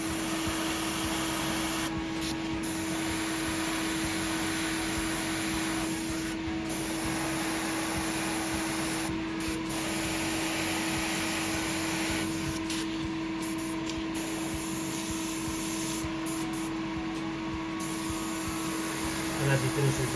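An airbrush sprays paint in a steady hiss over a constant compressor hum, with the spray pausing briefly several times through the stretch.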